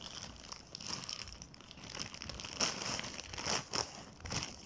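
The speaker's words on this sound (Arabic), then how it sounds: "هفتح الكيس اهو" A plastic bag of craft beads is opened with soft crinkling and rustling, a few sharper crackles standing out, close and quiet.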